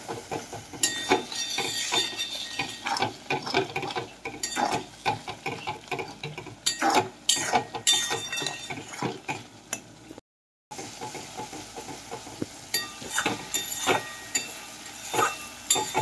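Spoon strokes scrape through a thick tomato and spice masala frying in oil in a pan for chicken dopiaza, with a steady sizzle under repeated stirring clatter and one brief silent gap partway through.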